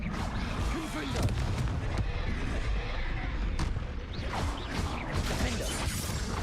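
Confringo blasting spells in Hogwarts Legacy combat, a string of sharp crashes and booming bursts about once a second amid clattering effects, with a voice heard throughout.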